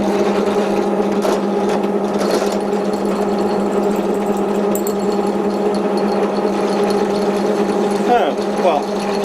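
A Dremel-style mini grinder drills in a steady, loud, continuous high-pitched whine that holds the whole time, with a few brief knocks and shifts in tone near the end.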